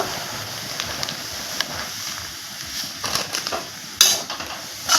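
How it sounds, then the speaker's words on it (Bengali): Semolina frying in hot oil, a faint low sizzle with occasional spatula taps and scrapes against the pan, close and sparse. "এখন আমি সুজিটা ভালো করে ভেজে নেব"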